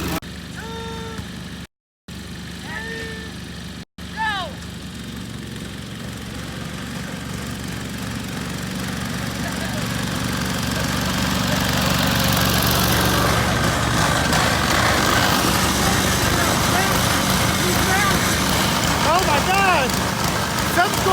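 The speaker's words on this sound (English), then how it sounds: "All right, let's get her going, boys." Riding lawnmower engines start up and rev for a lawnmower race, a steady rumbling drone that grows louder and fuller over time, with voices talking and shouting over it.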